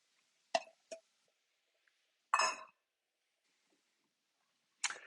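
Mushrooms dropping into a hot sauté pan, a few separate sharp plops and light clinks spaced across a quiet background, short bursts with silence between.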